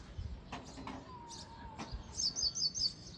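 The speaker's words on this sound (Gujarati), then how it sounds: "ચકલી છે અહીંયા" A sparrow gives a quick series of faint, high chirps near the end, outdoors in a quiet neighbourhood, after a few soft knocks and rustles.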